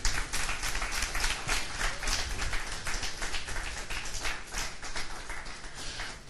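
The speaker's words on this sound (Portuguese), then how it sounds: "E os que vão podem aplaudir a palavra de Deus." Church congregation applauding together, a sustained dense patter of many hands clapping at even strength from start to finish, with no voices standing out.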